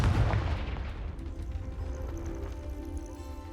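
A Confringo blasting spell explosion in Hogwarts Legacy, a heavy booming burst at the start that rolls off into a lingering rumble and soft tonal game ambience.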